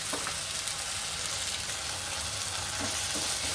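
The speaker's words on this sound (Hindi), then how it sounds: "फ्राई करूँगी ताकि ये अच्छे सॉफ्ट हो जाए" Tomatoes frying in a pan for paneer do pyaza, a steady, close sizzle with constant crackling hiss and faint stirring scrapes throughout, no voices.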